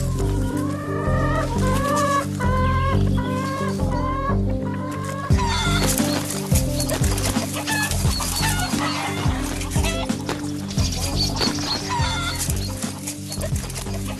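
Chickens cluck and call in a chicken run, with repeated rising clucks near the start, heard over a loud steady musical backdrop.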